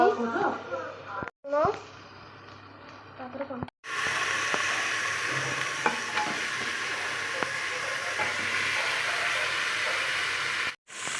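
Mutton frying in a pan for mutton kasha, a steady close sizzle with occasional stirring scrapes that starts after a few seconds of someone talking.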